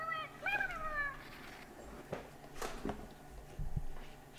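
A cat meows in a short rising-and-falling call near the start, heard during a Hollow Knight gaming session. Indistinct voices and thumps follow in the background afterward.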